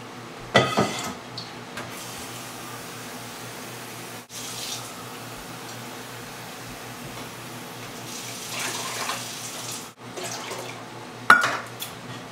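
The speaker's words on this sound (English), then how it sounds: "And 4 cups of water as well." Water runs and splashes into a pot, a continuous pouring sound with a couple of sharp clinks of metal near the start and end.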